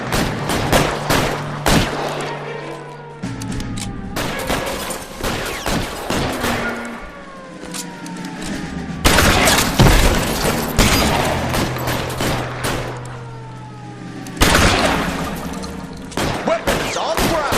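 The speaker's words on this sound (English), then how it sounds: "Mamy małą strzelaninę." Repeated bursts of gunfire in a video game shootout in L.A. Noire, loud sharp volleys that come and go in clusters, with a low mechanical drone and thuds between the bursts.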